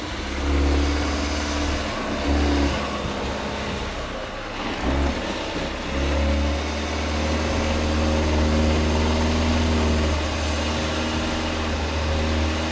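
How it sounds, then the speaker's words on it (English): A Volvo XC90 SUV on winter tyres climbs an off-road slope, its engine droning steadily and loudly with rising revs and a brief dip midway, running continuously throughout with no talk. "Volvo makes a good pace from the very start and easily copes with the first obstacle"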